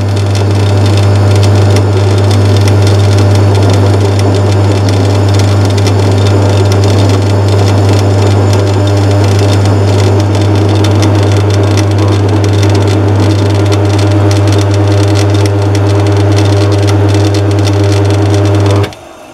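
Atlas 74 pillar drill cutting metal with a drill bit sharpened for the job, a loud continuous motor hum under a harsh grinding scrape that runs steadily for almost twenty seconds before cutting off.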